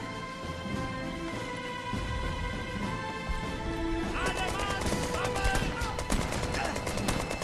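Rapid gunfire in the video game Brothers in Arms 3 (BIA3), bursts of repeated shots growing denser in the second half, heard over game background noise with someone talking in Thai.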